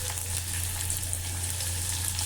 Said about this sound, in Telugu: వేడైన ఆయిల్లో రెండు ఉల్లిపాయలను చాప్ చేసి వేసుకోండి